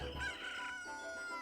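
A chicken in a Zelda video game gives a brief clucking, crowing call, close and fairly clear, over a soft game background.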